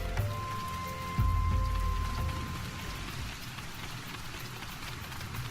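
Rain falling in Final Fantasy XIV, a steady hiss of raindrops pattering on surfaces, faint and continuous, with a brief low rumble near the start and no talking.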